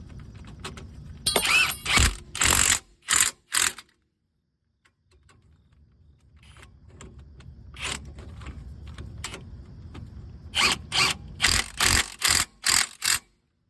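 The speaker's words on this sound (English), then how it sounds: "2 18mm caliper bracket bolts. These bolts you want to be pretty snug." A ratchet tightens the 18mm brake caliper bracket bolts on a 1999-2004 Jeep Grand Cherokee WJ: loud, rapid metallic clicking in short bursts, a quiet low rumble between, then another run of sharp clicks near by.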